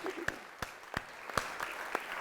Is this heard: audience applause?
yes